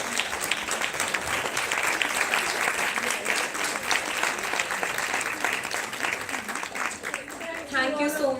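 Applause from the audience at a health conclave in Chandigarh, a sustained, even roar of many people clapping that runs throughout, with a voice starting to speak over it near the end.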